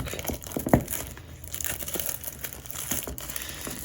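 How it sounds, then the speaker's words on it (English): Plastic wrap being peeled and crinkled off an Apple AirPods Pro box up close, a continuous rustle of crackling film with a sharper tear near the start. "Let's peel this foil off. This isn't foil, this is plastic."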